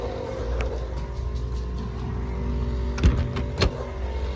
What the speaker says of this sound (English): This thing needs to hurry up and pump the damn tyre roll.